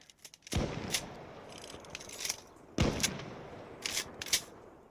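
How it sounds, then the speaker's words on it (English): In the Insurgency Sandstorm video game, a machine gun is reloaded with a series of crisp metallic clicks and clacks. Two sharp mechanical snaps are spread across a few seconds, followed by lighter rattles, all fairly quiet and with no voice. "Let's reload. And you can see the reload there."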